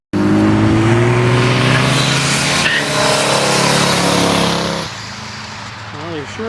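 At a Michigan car cruise, a car engine roars loud and close in a sustained, throaty rev that eases off toward the end.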